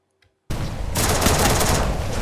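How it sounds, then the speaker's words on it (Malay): Video game gunfire in a competitive Free Fire match starts abruptly after a brief silence as a loud, dense fusillade of rapid shots that keeps up to the end, with no talk over it. "Itu dia tembakan dibuat oleh pasukan TSJ dan pasukan Housebow."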